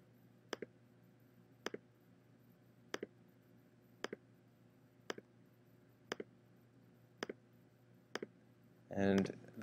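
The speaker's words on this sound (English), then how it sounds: "If you want to turn those off, click this button down here. And I will just keep clicking." A computer mouse clicks repeatedly at an even pace of roughly one click per second while stepping through video in Logger Pro software, each click crisp and close in a quiet room, with a brief noise burst at the end.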